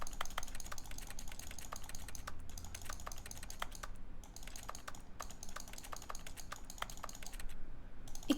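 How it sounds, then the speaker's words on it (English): Rapid clicking resembling keyboard typing runs steadily for several seconds, dense and close, with brief pauses and no speech over it. "It kind of sounds like a keyboard"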